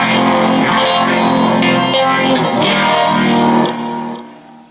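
An electric guitar runs through a Zoom G2G George Lynch multi-effects pedal with phaser and pitch shifting together, a sustained distorted, sweeping, swirling chord that rings loud and alone before fading out.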